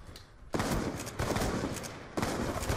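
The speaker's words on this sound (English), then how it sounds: "I got like 3 shotgun shots on him." Shotgun blasts in Black Ops 2, three heavy booming shots spaced about a second apart, each a broad loud burst that lingers before the next.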